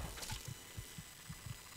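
Low-health heartbeat warning in Fallout 3, a series of soft, dull thuds pulsing at a steady pace beneath faint background game ambience, no voices present.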